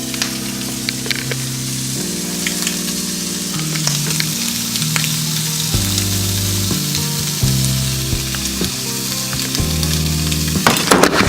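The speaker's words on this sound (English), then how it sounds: "You gotta let that sizzle for a good minute." Steady, crackling sizzle of food frying in a pan, loud and continuous, with a few sharper pops near the end.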